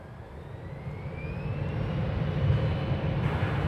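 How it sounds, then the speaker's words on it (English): A Volaris passenger jet arriving from Guadalajara roars in at DFW Airport, a steady broadband engine rumble building in loudness with a faint rising whine, distant to mid-range and alone. "Yes, it's Volaris coming in from Guadalajara in Mexico"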